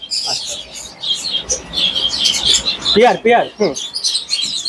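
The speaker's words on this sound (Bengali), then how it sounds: "এটা ফিঞ্চ আছে বেঙ্গলি ফিঞ্চ আছে" Bengalese finches chirp in quick, bright bursts at a bird market, with small busy calls scattered throughout and people talking nearby.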